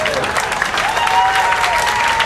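Banquet guests clap in a brief burst of applause, steady and fairly loud, with a faint voice heard under the clapping.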